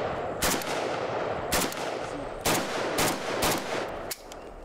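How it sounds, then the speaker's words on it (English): AK-47 rifle fired at a 25-yard range, with five or six sharp, loud shots at irregular intervals, each ringing against steady background noise. "we were shooting at 25 yards"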